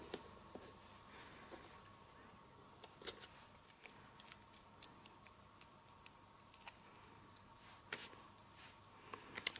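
Scissors cut trim for a custom bride-to-be tee, with quiet, irregular snips and small ticking clicks against a faint hum, close and soft.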